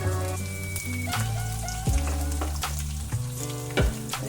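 Curry leaves, ginger and garlic fry in hot oil in a pan for a bhindi palya, crackling and sizzling loudly and close without a break, with sharp spatters and a few stirring scrapes.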